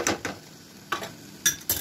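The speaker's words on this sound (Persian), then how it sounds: "فلفل سیاه و زردچوبه رو به اضافه عصاره نصف عصشنی اضافه میکنیم و خوب هم میزنیم" Spices and turmeric are stirred in a pan, giving several brief scraping clinks of a spoon against the metal, spaced irregularly over a faint background sizzle.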